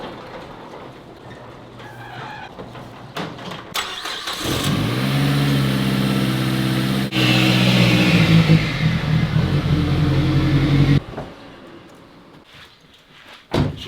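A Mazdaspeed 3 engine revs hard nearby, rising and holding in a loud throaty roar for several seconds, then cuts off, with quieter mechanical sounds before and after.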